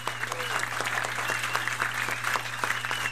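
Steady, full audience applause at a live comedy show, dense clapping from a crowd that holds evenly for a few seconds with a low hum beneath.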